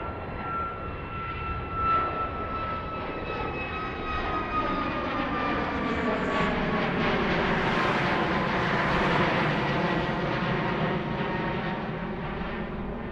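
A Southwest jet airliner takes off from runway 9 left at Philadelphia airport, its engines a loud continuous roar that rises and shifts in pitch as it passes and climbs away.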